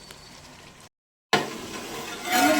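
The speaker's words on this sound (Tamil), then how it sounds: "கொஞ்சம் வெந்த பின்னாடி நம்ம பாசுமதி அரிசி எடுத்து பாசுமதி அரிசி எடுத்து போட்டுடலாம்." Basmati rice tipped into a pot of cooking chicken for chicken biryani, a soft scrape and stir, then a cut to loud hissing and sizzling that rises toward the end, with no talk.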